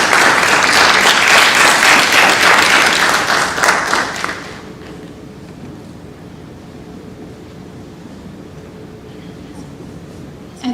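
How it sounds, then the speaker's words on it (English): A school audience applauds student speakers at a TED-Ed event, loud dense clapping for about four seconds that then fades abruptly, leaving quiet room tone. "So let's give them a round of applause."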